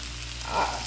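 Green banana frying in a pan with softened onion, a steady quiet sizzle that briefly swells as it is stirred.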